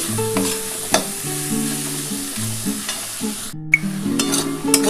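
Masala spices sautéed and stirred in a pan for dhaba-style chicken curry: repeated scraping and stirring over a soft sizzle, fairly close, with tonal background music throughout and no talking.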